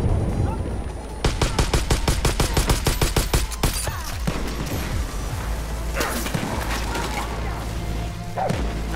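Rapid automatic gunfire in the Far Cry New Dawn video game, a loud rattling burst of evenly spaced shots followed by scattered single cracks and mechanical clatter over a steady low rumble.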